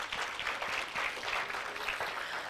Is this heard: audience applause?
yes